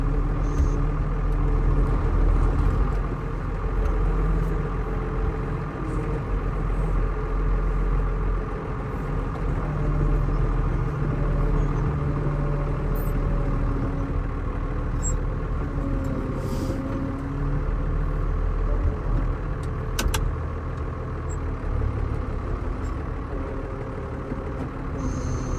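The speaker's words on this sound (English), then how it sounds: "It's a bit jumpy, this tractor." A tractor engine runs continuously at a steady, rumbling idle, loud and close throughout with a few faint clicks and knocks over the drone.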